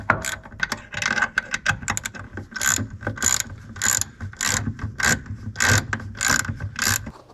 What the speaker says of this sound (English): using smaller nuts, screwing it into place. We'll just tighten it down then.